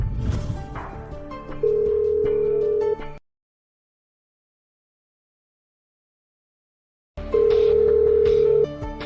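A telephone call tone sounds twice with a long silence between the bursts, each one a steady held tone preceded by a brief jumble of line noise, loud and close, ahead of a recorded busy message.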